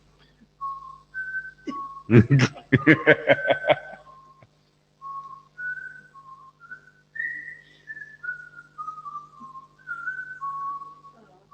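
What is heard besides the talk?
person whistling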